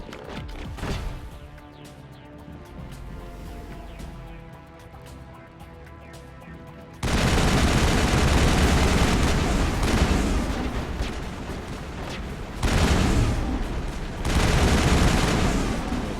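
Combat gunfire in Mass Effect 1, starting with a few shots over quieter game sound, then long loud sustained volleys of rapid fire with brief lulls between bursts.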